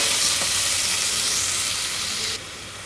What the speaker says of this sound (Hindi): अब इसको प्याज को थोड़ा सौते कर लेंगे, बिल्कुल गोल्डन नहीं करना